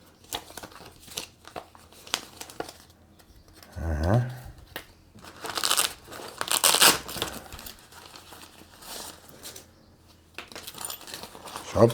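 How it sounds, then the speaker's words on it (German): Small metal hardware for a Radikal RK14S brake disc lock, screws, keys and an Allen key, clinking and jangling up close in brief bursts amid plastic packaging rustle. "Schlüssel und ein Imbusschlüssel"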